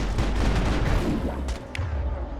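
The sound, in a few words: Geth gunfire in Mass Effect video game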